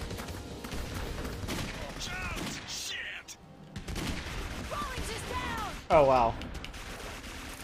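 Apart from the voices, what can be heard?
sniper rifle fire in video game Clive Barker's Jericho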